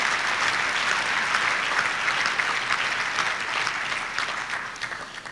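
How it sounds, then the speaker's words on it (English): Steady, sustained applause from a breakfast audience of entrepreneurs fills the room at full strength, tapering slightly near the end with no talk over it. "I want to give them a round of applause."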